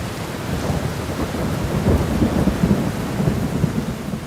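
A fierce storm is heard as steady heavy rain with rolling thunder rumbling low underneath, growing a little louder midway, with no voices.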